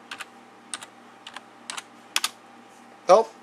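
Keys clatter on a computer keyboard as a network troubleshooting command is entered, coming in short double-tap clusters across a few seconds and finishing with one louder keystroke, close and clear.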